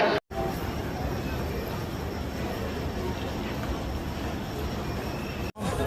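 A train rumbles steadily with wheel noise at Patna railway station, a continuous loud roar with no talk.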